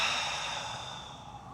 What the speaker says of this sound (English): I'm gonna exhale through.